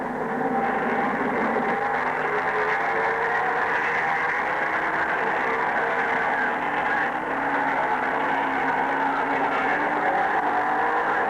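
Racing motorcycles in the South Pacific 500cc Championship at Longford in 1964, a field of well-tuned machines roaring steadily throughout, engines droning loud and continuous without pause.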